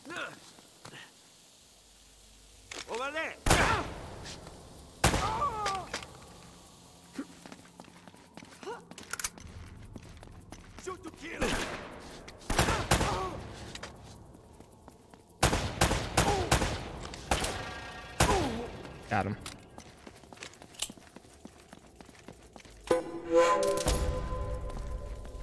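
Gunfire in Uncharted: Drake's Fortune: several loud, sharp bursts of shots spread across the scene, some in rapid clusters, with footsteps and scattered game sounds between them.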